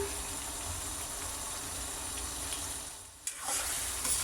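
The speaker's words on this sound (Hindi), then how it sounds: "यहाँ हम ऐड करेंगे गरम मसाला" Chicken makhani karahi sizzles steadily in the pan while garam masala is stirred in, a constant close frying hiss that dips briefly before picking up again.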